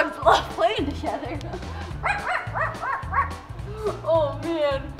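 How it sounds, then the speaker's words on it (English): Several excited dogs bark, yip and whimper in quick bursts while playing together, loud and close, with a person talking over them throughout. "Oh boy, these dogs love playing together."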